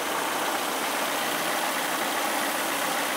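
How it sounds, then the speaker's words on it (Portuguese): A Twingo car engine idles steadily and evenly, humming without valve knocking or sputter, a continuous smooth drone from start to finish with no voices. "sem bater válvulas, redondinho, sem tremer mais, motor bem quietinho, parado."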